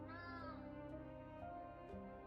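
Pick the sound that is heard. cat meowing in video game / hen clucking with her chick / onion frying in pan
cat meowing in video game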